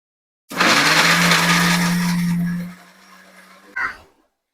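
A mixer grinder blends mango pieces, mint and water into syrup with a loud, steady motor whir for about two seconds. It then spins down to a quieter hum and ends with a short clunk.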